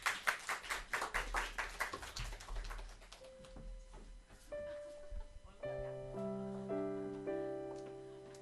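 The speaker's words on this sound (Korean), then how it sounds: "우리 박수로 모시도록 하겠습니다." A church congregation claps in unison to welcome someone forward for a testimony. The rhythmic, fairly close clapping lasts about three seconds, then fades as soft sustained keyboard chords take over.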